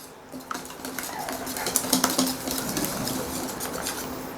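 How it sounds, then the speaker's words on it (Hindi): Spices being mixed with gram flour and two eggs in a bowl, giving steady clinking and scraping of a spoon against the bowl with irregular taps, close and moderately loud, no talking. "तमाम मसाला जात को अच्छी तरह से मिक्स कर लेंगे।"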